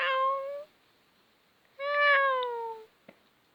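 A person imitates a cat with two drawn-out, tonal meows, the second longer and falling in pitch, separated by silence in a quiet room, followed by a small click.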